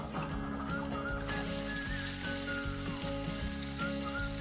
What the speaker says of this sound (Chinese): 在菜籽油中依次加入牛油、猪油和鸡油，搭配出浓香的底味